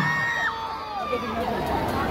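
Crowd of mothers at a political rally shouting and cheering together, a loud burst of mixed voices with rising calls over a busy babble.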